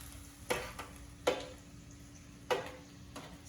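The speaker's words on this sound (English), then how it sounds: "Don't overcrowd your fryer because you don't want the oil to cool down too much." Food deep-frying in oil in a fryer: a soft, steady bubbling hiss underneath, broken by three sharp clinking taps of metal against the fryer spaced roughly a second apart.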